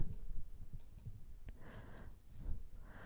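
Quick, crisp computer mouse clicks while someone works in a web browser on an HTML lesson, a handful of sharp ticks spread across a few seconds over a faint room background.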